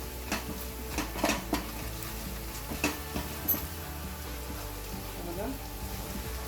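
Malvani masala is stirred into hot oil for an onion sambar, giving a constant low sizzle with a cluster of quick metallic taps and scrapes early on, then a steadier hiss.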